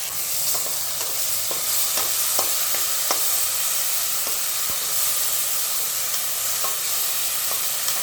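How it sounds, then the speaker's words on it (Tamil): Steady, loud sizzling of ground paste sautéing in hot oil in a pressure cooker, with occasional scraping clicks of stirring and no voices. "எண்ணெயில் இப்படியே வதக்கிடலாங்க நல்லா."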